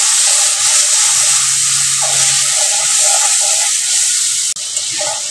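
Spice paste with turmeric and a splash of water fries and sizzles in a pan for fig prawn curry, giving a loud continuous hiss with bubbling and occasional stirring scrapes.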